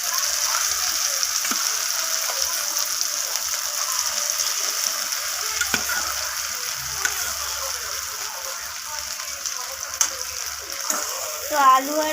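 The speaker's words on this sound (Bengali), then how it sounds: "তো তেলটা আমার গরম হয়ে গেছে, এখন আমি এর মধ্যে দিয়ে দেব মেখে রাখা আলু আর ডালটাকে।" Mashed potato and lentil filling for paratha sizzles in hot oil in a wok, a steady close frying hiss that runs throughout, with faint stirring and scraping sounds near the end.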